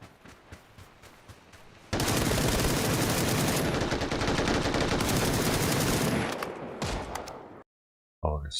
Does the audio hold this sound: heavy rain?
no